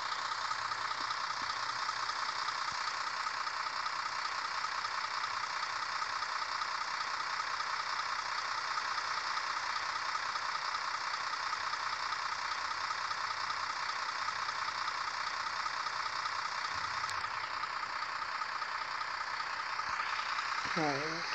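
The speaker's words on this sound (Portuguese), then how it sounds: "O ronco do motor." Truck engine in Grand Truck Simulator, a steady, droning hum that runs without a break from start to finish at constant loudness, with a brief shift near the end.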